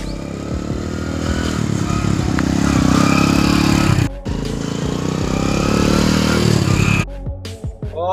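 A motorcycle arrives close by, its engine loud and steady as it rides in, then cuts out sharply with a few clattering noises and brief revs at the end.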